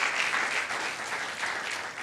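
A church congregation clapping together during a sermon, a steady, moderately loud burst of applause filling the hall.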